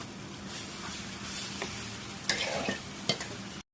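Boiled taro leaves stir-fried with fried prawns and turmeric in a pan, a steady close sizzle with two louder spatula scrapes before the sound cuts off.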